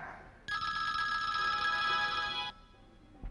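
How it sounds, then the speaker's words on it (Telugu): A telephone bell rings steadily in one continuous burst of about two seconds, bright and fairly close, over quiet room tone at a television channel's anniversary function. "నీకేమ్మా చూడు ఫోన్"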